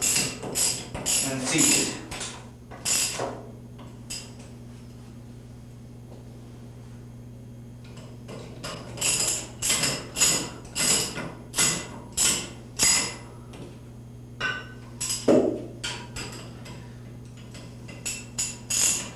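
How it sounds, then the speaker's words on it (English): A ratchet wrench tightens bolts during setup of an AMOT 4280 unit, giving bursts of rapid metallic clicking in repeated strokes with pauses between them and a steady low hum underneath. A voice speaks briefly. "tighten the bolts till they are firmly secure"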